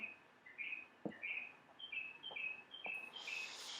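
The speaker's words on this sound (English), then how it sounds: "And the birds chirping" Birds chirp in a repeated series of short, bright tweets, fairly faint, with a few soft knocks underneath and a brief hiss near the end.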